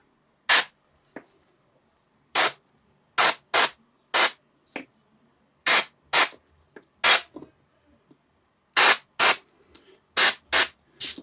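Bursts of an airbrush spraying paint onto a miniature model, roughly a dozen short, sharp hissing puffs at irregular intervals with near-silence between them, close and fairly loud.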